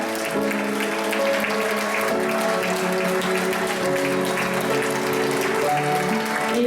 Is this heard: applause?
yes